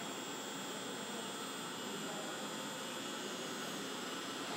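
A Southwestern Industries CNC vertical mill spindle runs with a steady, broadband whirring hiss and a thin high whine, continuous and even throughout with no talk.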